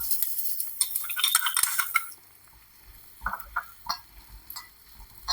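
Washed black sesame seeds are stirred and roasted in a pan, with a brief burst of hissing followed by quieter scattered clinks and scrapes of a spoon against the pan.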